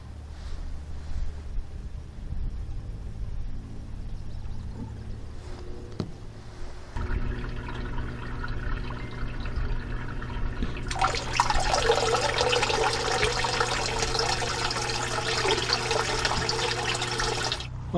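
Small pump starts up and pushes water through the pipes of an NFT hydroponic system, a low motor hum joined by a steady rushing, splashing flow that grows louder and fuller partway through.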